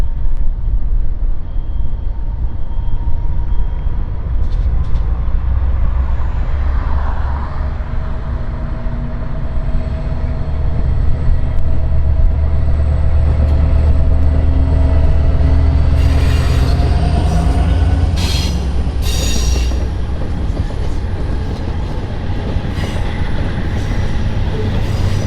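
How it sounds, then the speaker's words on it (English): Amtrak trains working through Union Station rumble steadily from below a bridge, a continuous loud low roar with wheel squeal and rolling clatter rising late on. "From the Boylan Bridge, you can get a great view of trains working Union Station."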